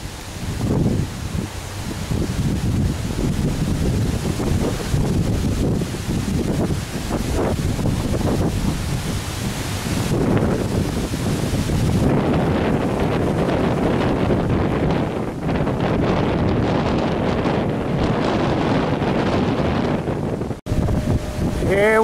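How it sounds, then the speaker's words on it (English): Strong Hurricane Irene gusts roar continuously across the microphone near a treetop windmill, a loud, rushing, buffeting wind that swells and surges without a break for the whole stretch. "Here comes another gust."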